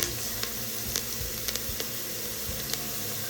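Onions, peppers and garlic sizzle and fry in a hot pan, a steady close crackling hiss with a few sharper pops and light stirring, no voices.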